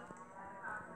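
A cow moos steadily within a Roblox game, one drawn-out bovine call lasting the whole second at even loudness, with no talking over it.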